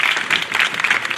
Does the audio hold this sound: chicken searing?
no